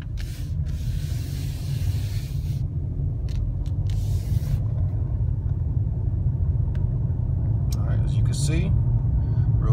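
A car drives along with a steady low road rumble and engine drone throughout, with someone talking over it from inside the vehicle.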